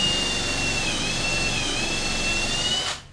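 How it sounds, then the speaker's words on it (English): A power drill with a 9/16 inch bit bores steadily into a hard wooden telephone pole at a sawmill, giving a loud, close, continuous whining drone with a high tone that ends abruptly as the drill stops. "I'm starting the hole with a 9/16"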